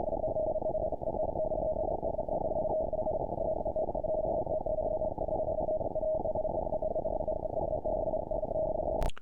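A pitched-down recording of spanners comes through as a continuous low, buzzing tone with a Morse-code-like character, holding steady and loud before cutting off abruptly at the end.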